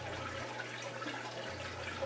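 A Whirlpool washing machine's drain pump hums steadily and low beneath rushing, draining water, constant and fairly quiet throughout.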